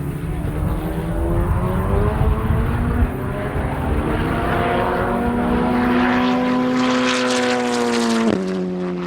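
A turbocharged Formula Regional Americas race car at NOLA Motorsports Park roars past in a continuous loud engine drone, its pitch climbing steadily before a sharp drop near the end.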